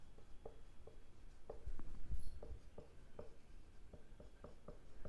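Pen writing by hand on paper while a statistics problem is worked out, soft scratchy strokes in an uneven rhythm, quiet and close, with no talk over them.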